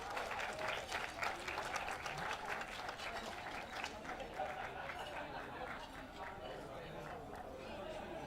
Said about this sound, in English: big, big round of applause, everyone.